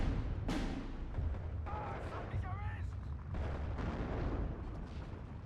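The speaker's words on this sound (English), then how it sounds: "Go on, mortar, straight on target." Mortar rounds land in the Steel Division 2 wartime strategy game, a muffled boom followed by rumbling impacts and scattered blasts, low in level, with a voice talking over the battle noise.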